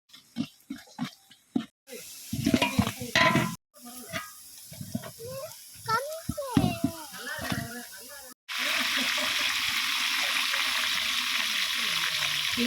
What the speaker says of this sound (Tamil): இந்த அளவுக்கு ஆனியன் வந்து நல்லா வதங்கணும்.